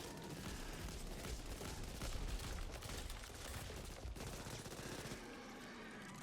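SMG fire in the zombie shooter Back 4 Blood, rapid continuous automatic bursts mixed with other gunfire and chaotic combat noise, loud and dense before easing off near the end.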